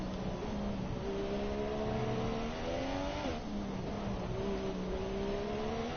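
An F1 car engine in the racing game F1 2017 at Abu Dhabi, with a loud, steady whine climbing in pitch, dropping sharply at a gear change and then rising again. No one talks.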